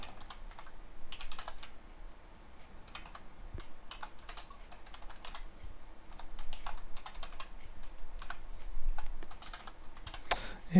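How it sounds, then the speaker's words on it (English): Hurried typing on a computer keyboard rattles along in quick, uneven bursts of sharp key clicks, close and fairly quiet, with brief pauses between runs. "And you see I'm typing rather hurriedly"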